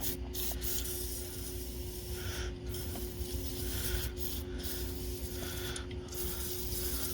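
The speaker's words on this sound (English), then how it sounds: "see if we spray it down with some Croil here" Hissing spray from an aerosol can of Kroil penetrating oil on a stuck water pump, a continuous close-up rushing hiss with slight fluctuations and a steady low hum underneath.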